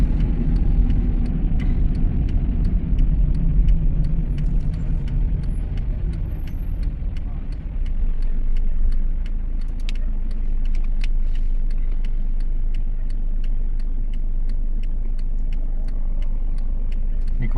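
A car driving through city streets during a driving lesson, heard from inside as a steady low engine and road hum with a faint repeating tick, like an indicator, and no talk.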